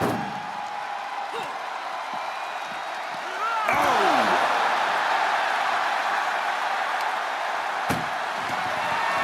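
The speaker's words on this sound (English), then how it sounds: "Just trying to close one door." Ambulance doors slam shut with sharp bangs during a WWE 2K25 wrestling match between Roman Reigns and Cody Rhodes, heard over crowd noise and commentary, one heavy impact near the middle and another later.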